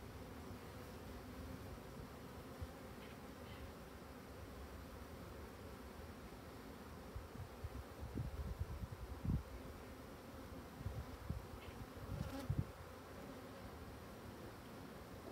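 An agitated colony of black honeybees swarms around a beekeeper, giving a faint, continuous insect hum with soft rustling and a few louder bumps and handling noises in the middle.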